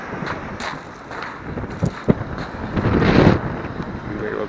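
Wind buffeting a microphone at an old coastal slipway during a fishing trip, a steady roaring rush that swells into stronger gusts.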